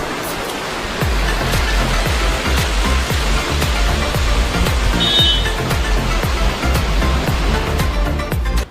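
A waterfall at the start of Joshimath in the Himalayan mountains roars with loud, continuous rushing water, and a steady rhythmic low thumping runs beneath it throughout.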